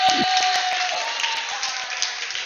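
Crowd at a UK HADO championship bursting into scattered clapping and applause that holds steady, partly under a commentator's voice.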